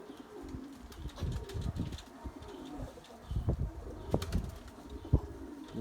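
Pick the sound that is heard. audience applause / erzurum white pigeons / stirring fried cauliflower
erzurum white pigeons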